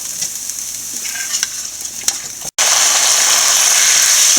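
Green banana being stir-fried with chilli and onion in a pan, a steady bright sizzle with scraping stirs; a brief dropout midway, then louder, denser frying.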